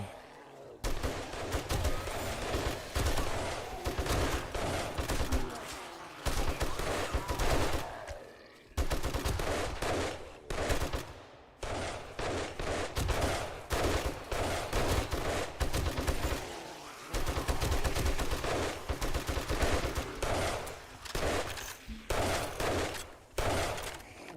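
Rapid, heavy gunfire from a .44 magnum in the zombie survival game 7 Days to Die, dense, loud volleys of shots running almost continuously with only brief pauses.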